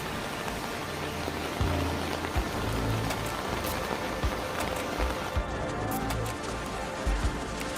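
Steady, dense heavy rainfall in southern China hisses across the whole stretch, with scattered drops and splashes popping through a continuous wash of noise.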